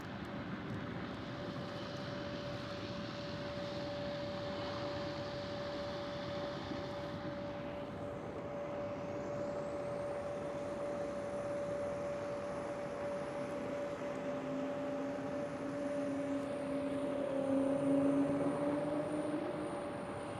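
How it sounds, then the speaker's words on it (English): An Embraer E190 jet taking off at Schiphol sounds faint and distant, a low, steady engine rumble with a sustained whining tone and a rising, shifting whistle that builds slightly toward the end. "an E190 takes off right now."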